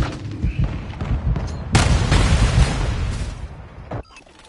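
Gunfire and explosions in Call of Duty: Modern Warfare 2 multiplayer: rattling shots give way to a loud, sustained blast and rumbling roar that fades, then a sharp final crack near the end.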